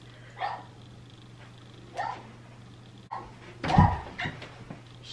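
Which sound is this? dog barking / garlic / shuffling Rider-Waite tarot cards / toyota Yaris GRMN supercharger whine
dog barking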